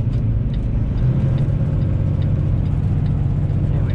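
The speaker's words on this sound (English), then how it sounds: "Downshift a little bit, guys." Truck engine labouring on a snowy winter mountain grade, a steady loud low drone with slight fluctuations throughout.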